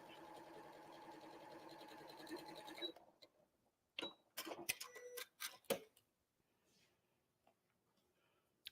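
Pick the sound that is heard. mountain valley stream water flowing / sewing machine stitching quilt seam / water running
sewing machine stitching quilt seam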